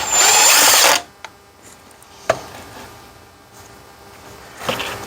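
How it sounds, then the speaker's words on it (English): A cordless drill whirs loudly for about a second, driving a screw into the FICM inspection plate of a Ford 6.0 diesel, followed by quiet workshop ambience with a few sharp taps and clicks. "These you can put in with a drill."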